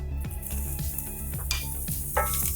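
Sliced leek and diced yellow onion hit about three tablespoons of hot olive oil in a pot with a loud, close crackling sizzle, punctuated by sharp spatters and a metallic clink.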